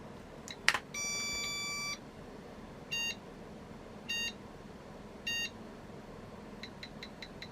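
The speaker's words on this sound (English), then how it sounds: "It's still beeping and counting to 448 kilobytes." Electronic beeps from an Arima ACT 386sx portable computer's memory test, in a regular pattern: one longer tone, then short evenly spaced bleeps, fainter ones at the end, over a low background hum.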